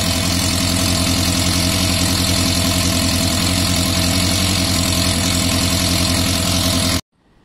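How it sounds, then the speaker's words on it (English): A Yamaha Fazer FZS 600cc motorcycle idles close and loud with tappety valves, a steady even chatter throughout that cuts off abruptly near the end. "The engine sounds a bit, you know, tappity, valves probably need adjusting."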